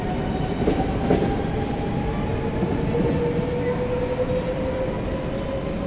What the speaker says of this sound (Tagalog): Maandar na yung tren dito sa kabila.